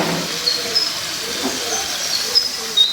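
Water poured into a hot pan hisses and sizzles continuously for a few seconds, a loud, close, steady steaming rush.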